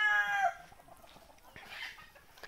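Sonali desi chickens on a free-range farm: a rooster's crow opens loudly, then softer clucks and scattered farmyard noises follow at a distance.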